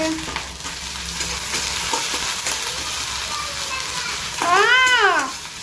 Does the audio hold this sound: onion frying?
yes